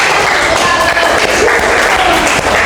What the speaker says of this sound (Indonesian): tepuk tangan untuk kelompok TV One